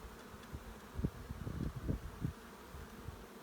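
Honey bees hum around an open hive while a beekeeper handles the colony, a soft, continuous close-up buzz that swells and wavers in pitch with no voices.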